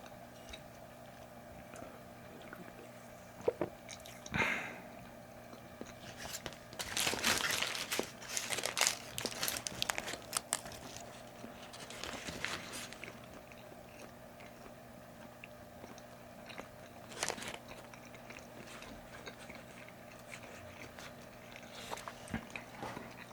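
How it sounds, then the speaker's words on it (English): Leftover McDonald's food chewed close to the mic in a quiet room, with soft intermittent bites and crinkly wrapper rustles, a busier burst of crunching in the middle, then sparse faint chewing clicks. "My first ASMR video is me eating leftover McDonald's."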